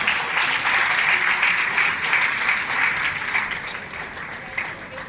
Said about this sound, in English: Please let's make the applause,